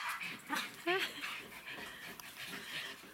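A dog pants and gives a few high, rising whimpers and yips close by amid a busy household, with a person speaking softly around the sounds.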